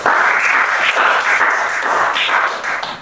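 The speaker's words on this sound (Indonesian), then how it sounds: "Berikan tepuk tangan untuk Devina." Children in a classroom clapping for a classmate during a lesson, a loud, continuous burst of rapid hand claps close by with no talking over it.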